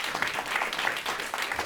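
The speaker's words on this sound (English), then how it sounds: "Round of applause." An audience at a conference on farmland protection applauds, a dense patter of many hands clapping at moderate distance, steady throughout.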